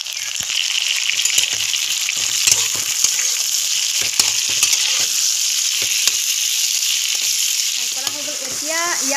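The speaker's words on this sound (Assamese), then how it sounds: "এয়া গোটেইখিনি ভালকৈ ভাজি ল'ম।" Ingredients for a sweet and spicy star fruit pickle fry in a pan, with a loud, continuous sizzle broken by sharp clicks and scrapes of stirring, close up and without speech.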